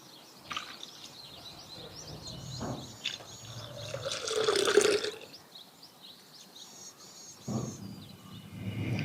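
Water poured onto hand-mashed tomatoes for a traditional tomato rasam, a gentle splashing pour that swells in the middle, with soft kitchen noises and faint chirps around it.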